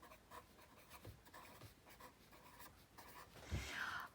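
Numbers being written out by hand, quiet intermittent pen or marker strokes on a surface, faint and close, with no talk.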